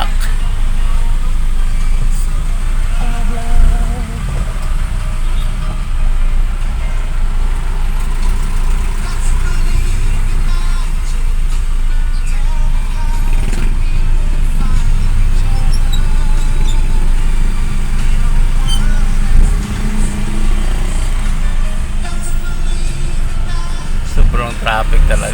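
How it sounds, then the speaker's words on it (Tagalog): Heavy road traffic in Manggahan, General Trias, Cavite: a dense, steady rumble of idling and creeping car and truck engines, loud and close, continuing without a break, with people talking over it. "Sobrang traffic talaga"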